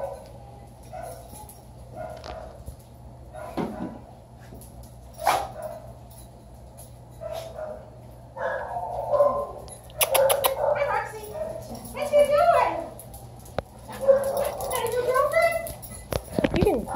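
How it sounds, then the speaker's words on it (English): A dog barks and whimpers in short, scattered yips and cries, fairly close, mixed in with people talking around it. "are you gonna be our tester dog?"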